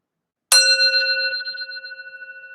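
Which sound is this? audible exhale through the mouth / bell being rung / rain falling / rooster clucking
bell being rung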